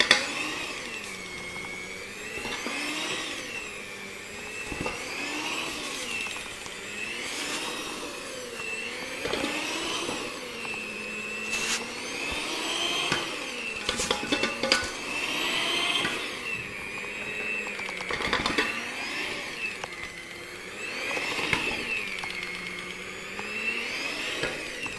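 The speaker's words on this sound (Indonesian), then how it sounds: "Oke, lanjut mixer." An electric mixer kneads potato donut dough, its motor whirring continuously with a rhythmic, wavering pitch as the beaters work the dough, steady throughout at moderate loudness and without talk.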